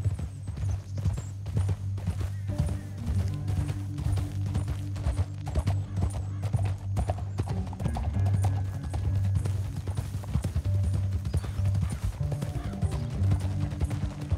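In Red Dead Redemption 2, horse hooves clip-clop in a steady, continuous rhythm, close and clear over a low rumbling background, with the occasional faint snort and no talk.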